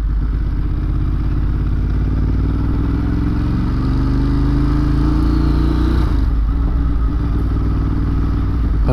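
A motorcycle ridden on the commute to and from work, its engine droning steadily with a rising whine that climbs for several seconds, then drops sharply as the revs fall and the note settles again, loud and continuous throughout.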